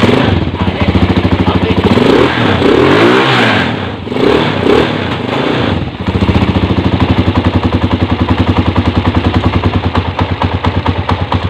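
A Honda 155 motorcycle with a noisy engine idles and revs up close and loud, a brief dip mid-clip before settling back into a steady rapid rattling idle.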